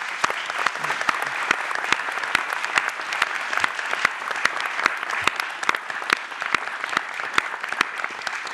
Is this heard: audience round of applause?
yes